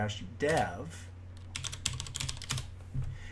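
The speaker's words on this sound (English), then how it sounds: "I'm just going to type in sudo apt install libdb-dev" Computer keyboard keys are tapped in quick bursts while a command is typed, close and moderately loud, with a brief voice sound at the start.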